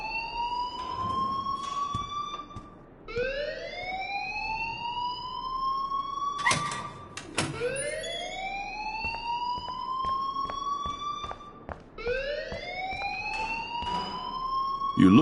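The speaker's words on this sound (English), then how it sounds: "please turn off that alarm since that's your job" Wailing alarm in a video game, repeated rising siren sweeps that climb and level off roughly every few seconds, loud and continuous with sharp clicks between cycles, no talking.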